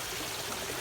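Water pours from a garden pond filter into the pond, a continuous broadband splashing and trickling flow that stays steady and fairly close, with no talk.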